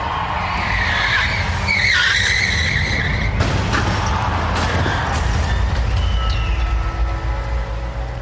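Cars skidding in a car crash dominoes stunt event, with loud continuous tire squeals and engine roar, a sharp impact-like burst midway, then more screeching, no voices.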